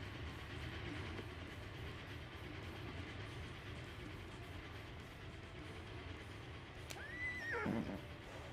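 A horse in the Wild West battle royale game Grit lets out a rising and falling whinny near the end, over a steady hum of in-game background noise, with no voices.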